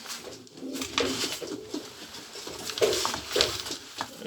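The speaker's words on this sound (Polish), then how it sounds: "Jest to gołąbek z bardzo dobrej hodowli." Soft, low cooing of Polish show homing pigeons nearby, repeated in overlapping phrases, with faint rustling and fluttering in the background.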